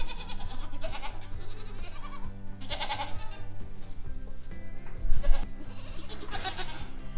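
Several farm goats bleat repeatedly at close range, overlapping calls rising and falling in loose bursts over a busy barnyard background.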